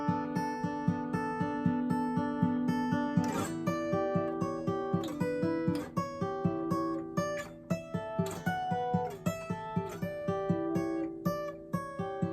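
Fingerstyle guitar plays the opening section of a solo, a steady stream of plucked notes over a repeating bass pulse with ringing harmonics, close and clear with no voices.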